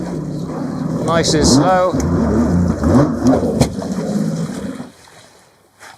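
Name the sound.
Yamaha JetBlaster PRO jet ski riding in reverse on water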